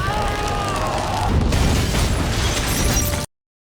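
A house blown apart by a massive explosion in the series Locke & Key, a loud, sustained roaring blast with crackling debris that builds and rumbles for about three seconds before cutting off abruptly.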